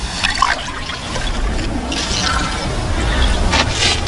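A hand plunges into cold water for a thermal-camera demonstration outdoors in the wild, giving a steady close splashing and trickling wash that lasts the whole moment with no talk.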